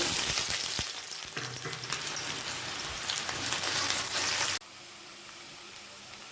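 Steady crackling sizzle of onions frying in a hot pan, close and continuous, dropping suddenly to a quieter sizzle near the end.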